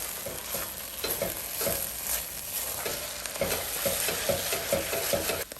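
Onions caramelizing in a 5.5-quart Staub cocotte for French onion soup: continuous close sizzling with rhythmic stirring scrapes through the whole stretch, no talking.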